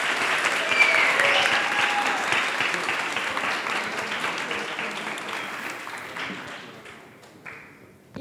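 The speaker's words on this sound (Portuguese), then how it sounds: "Batam palmas, por favor." An audience at a panel discussion applauds loudly and steadily, the dense clapping slowly thinning and fading toward the end.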